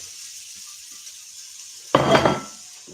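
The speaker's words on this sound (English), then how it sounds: "onions should sizzle as they hit the pan, which they do" A quiet hiss, then a sudden loud burst of sizzling as onions drop into a hot, oiled frying pan, fading slightly after a second.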